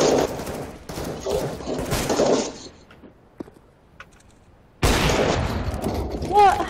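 Bursts of rapid gunfire from the game CS:GO crackle in the first seconds and again near the end, separated by a quieter gap with small clicks, with voices talking over parts of it.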